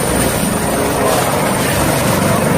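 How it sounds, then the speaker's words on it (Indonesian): A helicopter gives a loud, steady, unbroken rotor drone that fills the whole stretch at close range, with no voices over it. "Wah, ada helikopter teman-teman."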